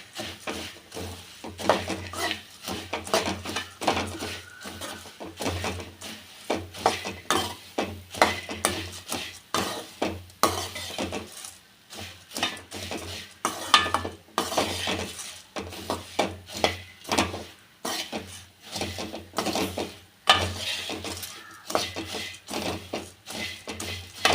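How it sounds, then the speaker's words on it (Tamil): Spiced puffed rice (masala pori) tossed and stirred in a pan with a utensil, producing repeated light scraping and clinking strokes in an irregular rhythm, close and moderately quiet. "இப்போ இது எல்லாமே நல்லா கலந்து விட்டுருவோம்"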